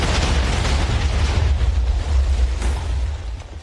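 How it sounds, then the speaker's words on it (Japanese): TNT detonating in Minecraft gives a loud, close explosion with a heavy low boom and a roaring, crackling rumble that sustains for several seconds before slowly fading, with no talk. "TNT を点火するよ。"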